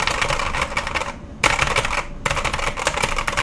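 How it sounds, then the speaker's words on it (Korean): Rapid, crisp clacking from typing on a Corsair K100 Midnight Gold keyboard with grey optical switches comes in close, loud bursts separated by two short pauses, with no talk. "타이핑 소리 한번 들려드려야죠."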